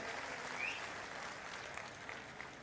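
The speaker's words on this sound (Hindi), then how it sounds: "मैं चाहता हूं एक बार जोरदार ताली उनके लिए बजाएं." Applause from a crowd at a political campaign rally in Latur, Maharashtra, a steady distant wash of clapping that stays even throughout and fairly faint.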